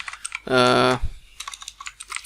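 Quick, light keystrokes on a computer keyboard while writing code, scattered taps close by, with a short burst of speech partway through.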